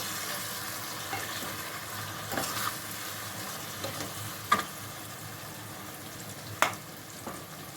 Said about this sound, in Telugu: మొత్తం ఒకసారి కలుపుకొని